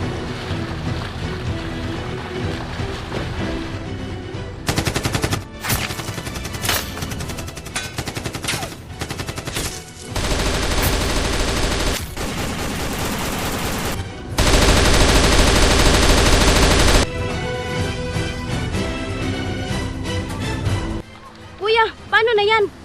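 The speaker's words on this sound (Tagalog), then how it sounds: "Binaril na tayo" Bursts of dramatic gunfire ring out at the characters in a comedy scene, loud cracks and sustained volleys between pauses, mixed with music and shouted voices.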